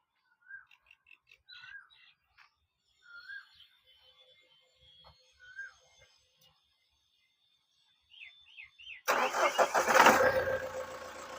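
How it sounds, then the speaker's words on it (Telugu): A 2015 Mahindra Thar jeep engine cranks and catches near the end, roaring loudly into a steady run after a stretch of quiet birdsong and faint background sounds. "ఇంజన్ అయితే నేను ఒకసారి స్టార్ట్ చేస్తానండి, మీరు ఒకసారి చూసుకోండి."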